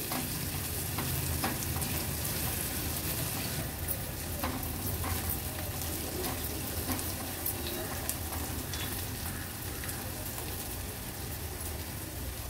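Ginger sautés in hot oil for a tempering, giving a steady, close crackling sizzle with occasional louder pops as it is stirred, continuous and unbroken throughout.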